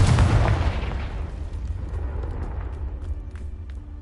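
A Confringo fire spell in Hogwarts Legacy bursts in a heavy booming explosion that hits loud at the start, then rumbles and fades into a low crackling tail with scattered small pops.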